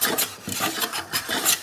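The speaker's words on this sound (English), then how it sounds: "That means we're planing that down and starting to grow here." A hand plane shaves a wooden workpiece while shooting it square, giving a quick series of rasping strokes, close and steady, with short pauses between passes.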